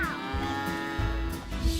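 Cattle on a farm that also grows corn, soybeans and wheat give a loud, close moo that holds steady for under two seconds, with no voices over it.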